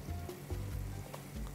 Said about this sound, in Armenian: Մնաց խմորապատ մսակտորները հատ-հատ տապակել և լցնել սոուսի վրա։